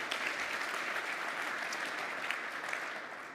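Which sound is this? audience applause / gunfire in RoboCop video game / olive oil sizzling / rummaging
audience applause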